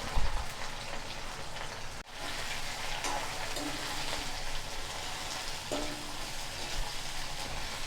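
Two sliced medium onions fry in oil for a fish kuzhambu, giving a soft, constant crackling hiss like light rain. A couple of faint knocks sound from the pan, and there is no talk.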